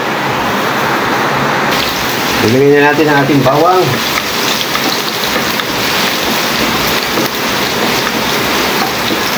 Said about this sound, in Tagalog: Lumakas pa ang ulan